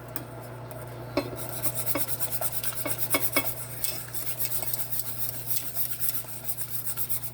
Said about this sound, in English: And one at a time, and I'm mixing up as I drop them in.